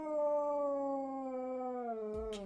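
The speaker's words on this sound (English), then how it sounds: "This is Ozzy. He's a Cocker Spaniel." Ozzy, a Cocker Spaniel, holds a long, steady, tuneful howl close up, its pitch sliding slowly downward, and a short clatter cuts in near the end.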